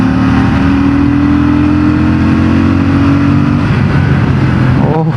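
Royal Enfield Bullet 650 parallel twin motorcycle engine running loud and close, a steady throbbing idle with layered harmonics that rises into a brief rev near the end.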